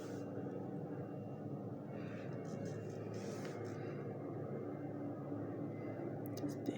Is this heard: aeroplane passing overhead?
yes